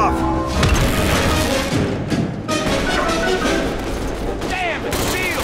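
Explosives and bombs detonating in the video game The Bureau, a continuous barrage of heavy booms, crashes and gunfire with shouted voices mixed into the loud, chaotic battle noise.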